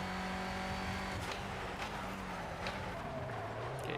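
A Clio race car in the racing game Project Cars drones along at steady high revs through a lap on a Norfolk track, with the engine note shifting slightly as it goes and faint tire noise, with no talk.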